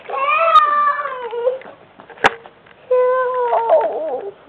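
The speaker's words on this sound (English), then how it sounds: "Get the kitty, Colten." A kitty meows in two drawn-out calls separated by a short pause, close and fairly loud, with a single sharp knock between them.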